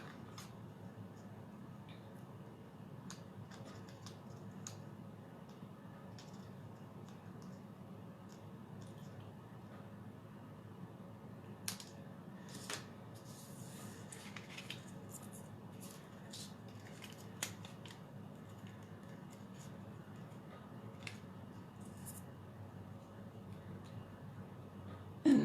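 Scissors trimming paper while cutting out pieces for a handmade card, with a few faint, scattered snips over a low background hum.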